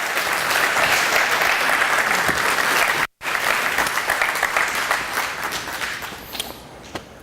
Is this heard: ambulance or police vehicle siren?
no